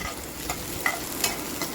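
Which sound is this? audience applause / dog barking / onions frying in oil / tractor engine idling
onions frying in oil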